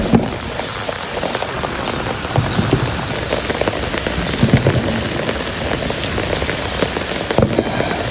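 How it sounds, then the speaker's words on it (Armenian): Heavy rain pours steadily in a dense, loud, continuous wash of drops drumming on surfaces, with no voices. "անձրևը վարարեց"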